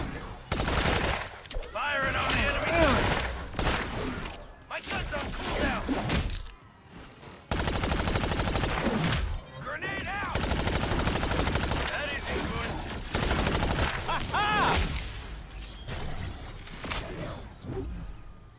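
Gunfire bursts in the video game Agents of Mayhem: rapid volleys and single shots crackle in repeated clusters over game sounds, mixed with intermittent talking.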